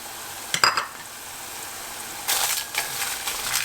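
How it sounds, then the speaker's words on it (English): Dry red chilies drop into a pan of fried onions for a spicy sesame chili sushi sauce, giving a brief sharp crackle, then a quiet pause before a steady sizzle and stirring scrape take over near the end. "So I'm going to add the dry red chilies into here."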